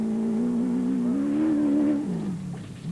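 A Porter PR1 rally car's engine hums steadily during the Magalies 400 rally, a strong tonal drone that rises slightly in pitch, then drops away as it recedes.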